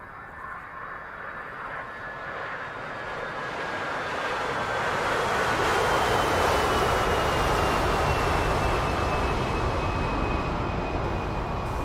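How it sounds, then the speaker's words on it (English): Large jet fuel tanker aircraft taking off in the DCS flight simulator, a broad engine roar with a thin whine gliding slowly downward, building in loudness over several seconds and then holding strong. "You're hearing a large jet aircraft fuel tanker taking off."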